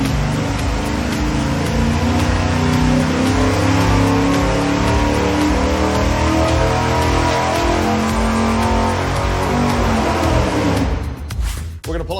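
A Chrysler 5.9 Magnum V8 with a ported intake and stock throttle body runs loud and steady on an engine dyno, holding a dense, rough roar for about eleven seconds before cutting off abruptly near the end.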